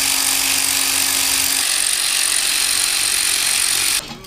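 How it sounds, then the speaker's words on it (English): Bolts that anchor an ATV to its shipping pallet are undone with a power tool, making a loud, steady mechanical whir that runs for about four seconds before cutting off abruptly. "You'll need to undo these bolts here to get the four-wheeler unattached from the anchors to the actual pallet."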